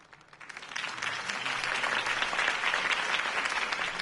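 Crowd applause from a Batman video game swells within the first second and holds steady as a dense, continuous wash of many hands clapping, fairly loud and sustained.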